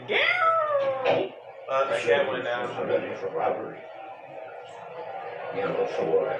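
A cat meows once, short and close, at the start, and then people keep talking over faint background noise.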